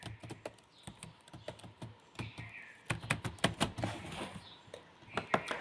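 Someone types on a computer keyboard at close range, irregular bursts of crisp key clicks with short pauses, heard alone without talking.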